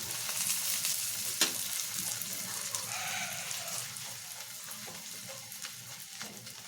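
Sardine and egg omelette frying in a pan, a steady close sizzle and crackle with occasional stirring scrapes, no talking.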